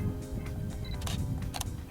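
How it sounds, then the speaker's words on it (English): A Canon EOS 650D shutter release fires for a still, a couple of quick, close mechanical clicks near the end over a low steady room hum. "I can press the shutter release to take a still."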